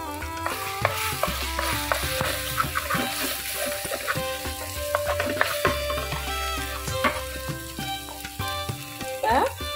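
Prawn thokku sizzling and frying in a pan as it is stirred after pepper powder goes in, with repeated spoon scrapes and clatters over a steady crackle.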